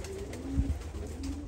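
Young racing pigeons, Turkish ardiosa birds, coo in a loft, a soft low throaty coo rising briefly near the middle over a steady background hum.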